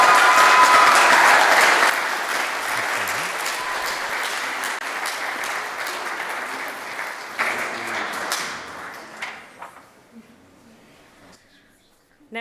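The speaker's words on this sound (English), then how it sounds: "if you wanted to clap for each of our students as they came forward" A temple congregation claps for a confirmation student coming forward: a dense burst of applause fills the first couple of seconds, then thins into scattered claps that fade out toward the end.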